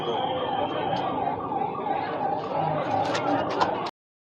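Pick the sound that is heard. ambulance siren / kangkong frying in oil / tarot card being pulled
ambulance siren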